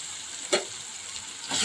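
Brinjal pieces coated with turmeric and chilli powder are stirred in a hot pan, giving a steady close sizzle broken by a sharp spoon scrape early on and a louder burst of frying near the end, with no voices.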